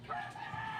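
A rooster gives a brief, fairly faint crow, a single short harmonic call heard alone.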